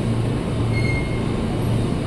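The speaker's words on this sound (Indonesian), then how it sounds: "Jalur 8 lokomotif berangkat juga." A locomotive-hauled train departs Jatinegara station, with a loud, steady rumble of rolling wheels and a faint thin squeal of rail contact.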